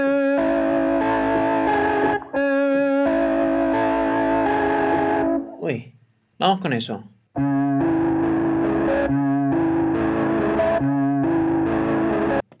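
Electric guitar played through a free VST plugin's distortion effect, a thick sustained crunchy tone with repeated chords, briefly broken by a short spoken exclamation before the distorted playing resumes.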